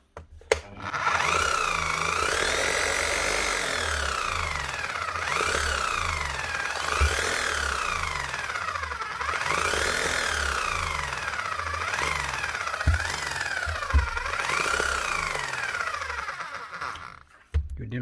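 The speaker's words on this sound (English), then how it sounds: "you'd nearly think that's hunting like a generator or something, but that there's actually a set of brushes" A small Bosch demolition hammer with worn brushes runs unevenly, its close motor whine surging and sagging in a repeated hunting cycle like a struggling generator, with occasional knocks, steady for most of the run.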